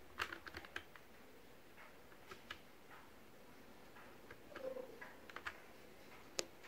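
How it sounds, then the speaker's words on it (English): Shift and space keys pressed on a physical keyboard used with a Samsung Galaxy S23 Ultra, heard as faint, sparse clicks and ticks scattered over a quiet background. "press the Shift and space key"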